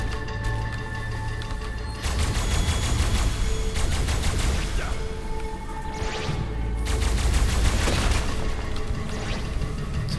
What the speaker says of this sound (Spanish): Chucha, me está disparando ahora.